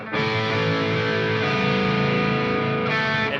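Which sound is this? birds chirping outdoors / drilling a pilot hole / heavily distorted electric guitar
heavily distorted electric guitar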